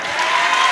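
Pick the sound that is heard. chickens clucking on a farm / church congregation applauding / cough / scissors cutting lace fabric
church congregation applauding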